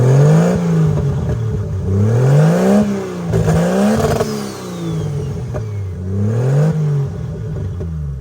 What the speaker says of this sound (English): We're probably gonna rev it up just a little bit.